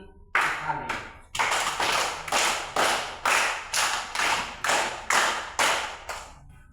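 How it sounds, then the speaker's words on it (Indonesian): Group of children clapping hands in steady counted bursts, a couple of single claps followed by a long run of sharp, evenly spaced claps, loud and close, with voices mixed in. "Tepuk tangan 3 kali."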